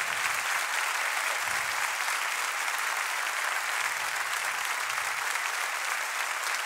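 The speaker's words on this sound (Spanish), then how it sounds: "Qué bonito, aplauden." Steady applause from a concert audience after a marimba piece, a dense, even wash of clapping that holds at full level for the whole stretch with no voices over it.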